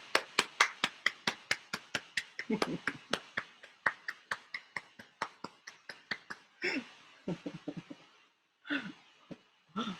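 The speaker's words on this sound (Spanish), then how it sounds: "un aplauso para Miao Song." Applause breaks out from an audience at a Zen Buddhist talk, a quick run of sharp overlapping claps that thins out and stops, then a few scattered claps near the end.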